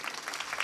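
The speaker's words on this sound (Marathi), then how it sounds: "टाळ्या वाजवा ना जोरदार." An audience claps at a kirtan, a dense, even spatter of many hands that is moderately loud and continuous for a brief moment.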